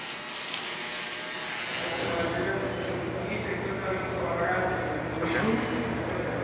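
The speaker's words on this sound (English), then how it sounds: "we were instructed we had to shave our beards as a safety precaution" Close, steady buzz of an electric shaver running continuously, used for shaving beards before work in natural gas and oil fields, with a person talking over it.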